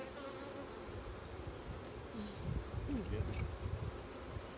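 Honey bees buzz steadily around an open hive during an inspection, a dense close hum holding throughout and swelling slightly toward the end.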